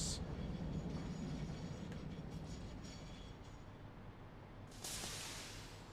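Train in the Satisfactory factory-building video game, a steady rumbling rail roll that slowly fades, with a hissing burst near the end; someone talks over it.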